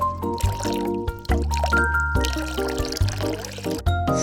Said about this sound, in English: Add in adequate water for boiling white fungus and pear